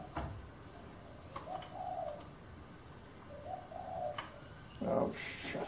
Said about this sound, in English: Bloody doves. That one seems to like annoying me.